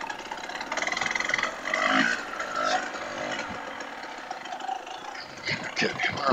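A KTM 300 TPI two-stroke dirt bike putters at low revs through rough, technical trail terrain, its buzzy engine note steady and close with small throttle blips and rising surges near the end.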